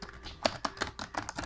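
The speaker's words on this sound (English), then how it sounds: "Typing." Keyboard typing heard close up as a quick run of light key clicks in uneven bursts, with no talking over it.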